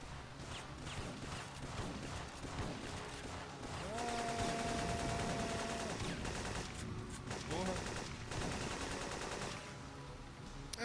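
Rapid bursts of gunfire from Syphon Filter on PS1, sustained and dense over several seconds with brief pauses, loud and close.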